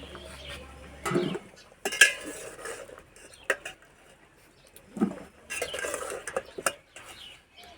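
Boiled jackfruit pieces being scooped and strained out of a cooking pot, with repeated clanks and scrapes of a utensil against metal and soft watery patter between the knocks.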